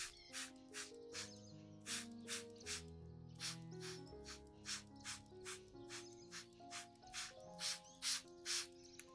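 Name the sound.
misting plant leaves with orange peel and molasses solution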